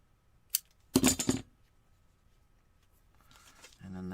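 Scissors snip paper while a handmade Santa Claus Christmas ornament is being made, giving a single sharp snip followed by a short burst of crisp cutting sounds, then quiet and faint rustling at the end.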